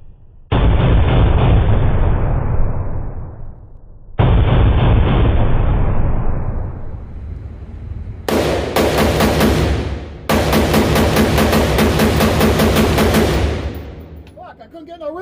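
Sig Sauer M400 10.5 rifle with a Hiperfire Hipertouch competition trigger, fired in loud, close rapid strings, two long sustained bursts followed by two more, with echoing decay between them.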